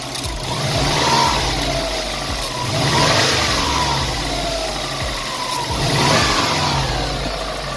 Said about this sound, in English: If we still have noise, it's because probably the engine got hurt.